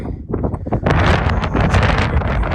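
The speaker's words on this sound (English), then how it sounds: "we experienced wind one other time like this on Humphreys, where you have to like stop and grab the ground" Strong gusting wind roars across the microphone on the exposed summit of Wheeler Peak in Great Basin National Park, Nevada, a loud, continuous buffeting that builds after a brief lull and stays heavy throughout.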